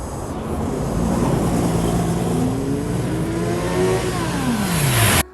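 A Kawasaki Z900 motorcycle accelerates hard as the throttle is opened, its engine note climbing loudly through the revs over heavy wind rush before a gear change drops the pitch near the end.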